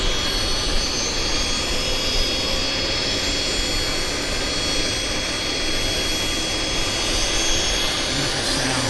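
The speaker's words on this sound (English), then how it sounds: "Airliner starting engines." Steady, broadband roar of a four-engine jetliner starting its engines at Vancouver Airport, a continuous loud rumble and hiss with no clear breaks, heard from a distance across the apron.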